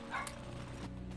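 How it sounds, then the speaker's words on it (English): A dog barks and yips faintly in the distance, one or two short calls over a steady low background hum. "You probably can hear the dog barking."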